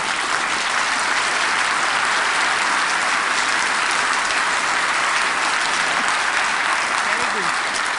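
An audience claps together, trying to imitate the sound of thunder, producing a dense, steady roar of applause that fills the full eight seconds at a constant, loud level.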